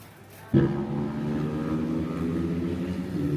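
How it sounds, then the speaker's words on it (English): An engine suddenly roars up close and holds a loud, steady drone, like a motorcycle going past. "some loud motorcycle goes zooming by"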